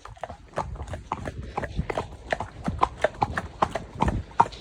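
A horse's hooves clip-clop in a steady trotting rhythm on a hard surface while out on a hack, moderately close, with faint background sounds.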